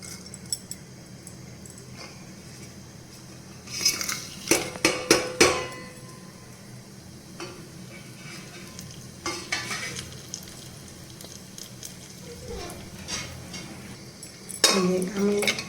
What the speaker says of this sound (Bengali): তেলটা গরম হওয়ার পর আমার এই গোটা গরম মশলাগুলো আমি দিয়ে দেবো